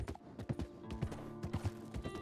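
A horse's hooves clip-clop at a steady walking rhythm on a trail in a cowboy video game, close and fairly quiet, with faint background ambience.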